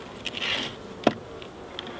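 Honeybees buzzing around a hive, a faint intermittent drone with brief louder passes as bees fly near, plus a sharp tap midway.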